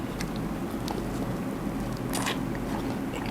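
Crispy fried fish skin is bitten and chewed up close, producing dense crunching and crackling bites that run steadily for a few seconds with no one speaking.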